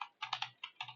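Typing names on a Windows 10 computer keyboard: a few quick clusters of key clicks, close and clear, alone without talk.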